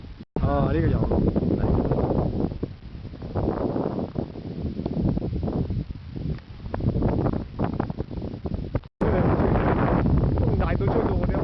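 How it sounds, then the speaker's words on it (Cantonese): Strong seaside wind buffets the microphone almost continuously with a loud, rough roar that dips briefly midway, while people talk over it. "風大到吹到我哋一路吹咗"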